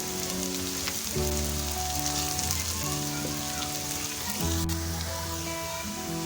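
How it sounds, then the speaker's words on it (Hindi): Onions with garlic-ginger paste frying in oil in a pan, a close continuous sizzle with faint crackles and soft stirring, steady throughout with no voices. "इसमें लहसुन और अदरक का पेस्ट शामिल करेंगे। इसे भी अच्छी तरह इसमें फ्राई करेंगे।"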